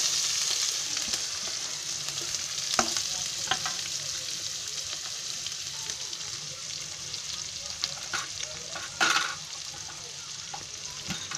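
Onion, cloves, cinnamon, green chilli, ginger, garlic and asafoetida frying in oil for dal fry, a steady close sizzle with occasional stirring clicks and scrapes, no talking.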